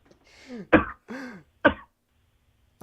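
A man clears his throat and coughs in short harsh bursts, two strong hacks between raspier throat-clearing sounds, close and loud, then silence.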